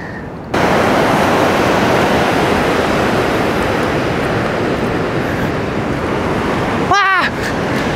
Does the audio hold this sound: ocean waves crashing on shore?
yes